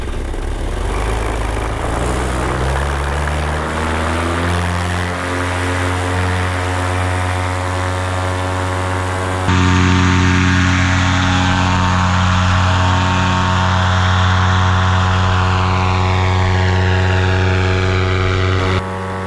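Small propeller airplane engine steady with strong harmonic drone, then roaring up to a louder, higher pitch as the throttle is rolled on partway through, close and loud throughout.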